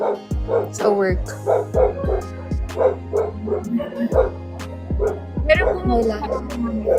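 A dog barks and yips in short repeated bursts, close and fairly loud, under and between a conversation in Tagalog and Cebuano.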